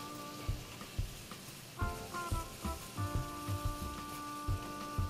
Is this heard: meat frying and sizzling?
yes